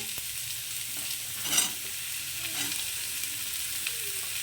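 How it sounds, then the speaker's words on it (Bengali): Sliced radish, beans and potatoes stir-fry in a pan with an even, close sizzle. A sharper scrape of the spatula cuts through near the middle. "মুলোটা একটু হালকা নাড়াচাড়া করে নেবো এটার সঙ্গে এবার দিয়ে দিচ্ছি বিনস আর আলু"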